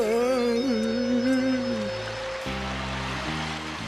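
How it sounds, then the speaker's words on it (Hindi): Water rushing into a cartoon scene, a steady broadband wash under bright music tones and a deeper held note that shift and step from about halfway through. "देखो वहाँ से पानी आ रहा है।"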